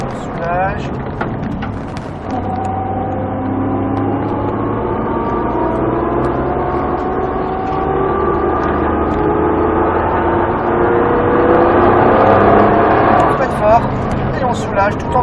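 Race car engine at a sprint racing circuit in Croix-en-Ternois, droning loudly and steadily as the driver brakes hard and eases through a corner, with engine tones shifting under continuous speech.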